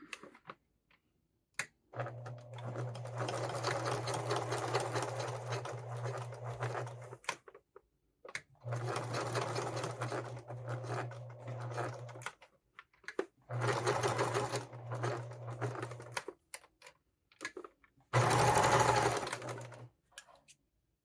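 A sewing machine topstitches fabric in four steady runs with a low motor hum and rapid needle chatter, close and even, stopping briefly between each run to pivot at corners.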